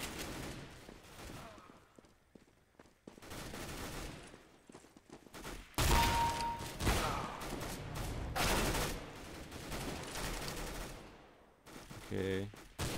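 Gunfire in the video game CS:GO: rapid bursts of loud shots, sometimes sustained like automatic fire, spread through the clip with quieter gaps and some talk mixed in.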